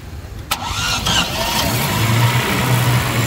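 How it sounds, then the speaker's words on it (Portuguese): A car engine cranks briefly and catches, then settles into a steady low idle rumble, close and fairly loud, with no talking. "pedi para que o amigo desse partida para vocês escutarem aqui junto comigo o ruído do motor"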